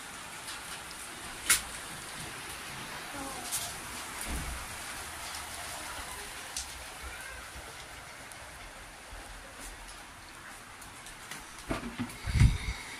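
Rain falls steadily in a continuous soft patter on surfaces, with a few louder drips and knocks near the end and no talking.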